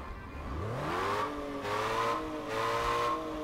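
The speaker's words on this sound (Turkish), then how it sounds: "Şimdi aracımız burada. Motorunu değiştik. Bakalım sesi değişmiş mi?" A car with a swapped engine in the Car Parking Multiplayer video game revs up with a rising whine, then surges in repeated throttle blips, a clean synthetic engine tone with no voices over it.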